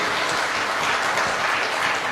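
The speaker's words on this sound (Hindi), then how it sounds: "give yourself a big big round of applause, एक जोरदार तालियां आप सभी के लिए" An audience claps for itself at a DXN presentation, with a brief burst of dense, loud applause that holds steady throughout.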